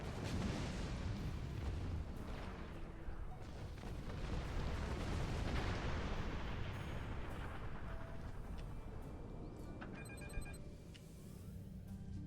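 Torpedo blasts in the space game Star Trek Online, a continuous loud rumbling roar of explosions sustained throughout, with brief sharper bursts near the end.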